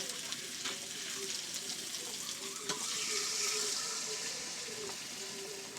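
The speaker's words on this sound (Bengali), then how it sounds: "একটু পানি দেবো অল্প করে, একটু সিদ্ধ হওয়ার জন্য।" A little water splashes into a hot pan of frying food while cooking tilapia fish with papaya curry, setting off a steady, close, crackling sizzle that holds for several seconds.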